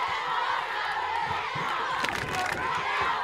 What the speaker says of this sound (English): here comes the crowd back again, trying to cheer both teams